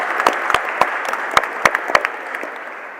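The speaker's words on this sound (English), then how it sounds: "I would like to ask for another quick round of applause to recognize our" A conference audience gives a quick round of applause for award recipients, a moderate burst of overlapping hand claps that thins out and fades toward the end.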